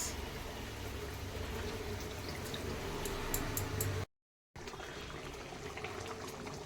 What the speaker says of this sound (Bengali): ঝোলটা টকবক করে ফুটছে